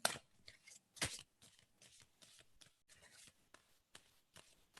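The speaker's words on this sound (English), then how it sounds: "Tell me when to stop shuffling." Close riffling and soft snapping of playing cards being shuffled in quick bursts, quiet overall with a couple of louder flicks.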